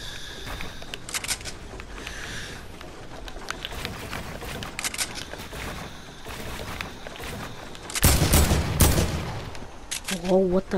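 Automatic gunfire in a video game comes as rapid bursts of shots and fusillades, growing louder and denser near the end, with rattling game effects around them.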